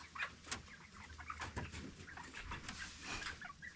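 Seven-week-old farm birds at a weigh-in and leg banding give faint clucks and chirps over a steady low background, scattered through the whole stretch, with no talk.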